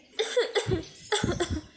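Two bursts of harsh coughing, each a quick series of hacking coughs, close and fairly loud, separated by a short pause.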